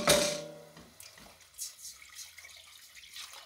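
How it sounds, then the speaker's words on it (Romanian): A brief splash of water poured into a soup pot, followed by quieter trickling and small clinks in a kitchen. "Și punem apă."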